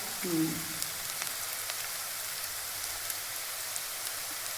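Onion, green chilli, garlic and cumin fry in hot oil in a pan, giving a soft, steady crackling sizzle throughout, with a brief low tone near the start.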